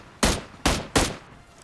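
Three single-fire M16 rifle shots in PUBG Mobile, each a sharp, loud crack with a short decaying tail, spaced roughly evenly across under two seconds.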